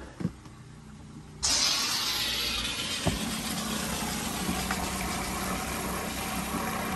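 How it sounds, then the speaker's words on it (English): Drain pump in a Winnebago Travato 59G camper van shower kicks on abruptly and runs with a steady, close hiss and hum, continuing evenly with no voices over it. "shower pump on."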